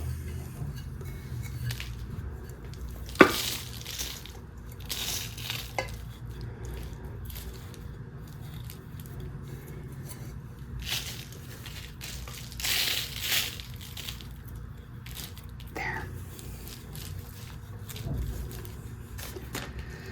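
Old potting soil is poured into a plant pot in faint, irregular crumbly crunches and rustles, scattered over a quiet background.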